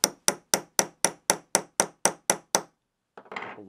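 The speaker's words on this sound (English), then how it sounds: "And a really small hammer." A really small hammer taps a small punch set on an awl handle's pin, ten quick, crisp, evenly spaced metallic taps close up, followed by a brief rustle of handling.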